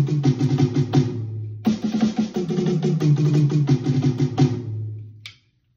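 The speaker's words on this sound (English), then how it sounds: "you could spread that around the drum kit and it would sound like this" A fast 32nd-note drum fill moves across the kit, from toms to snare and cymbals, in dense rapid strokes with a brief pause, then stops abruptly.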